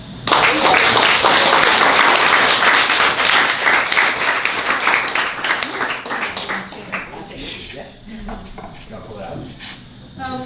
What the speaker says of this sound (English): Thank you so much. Round of applause.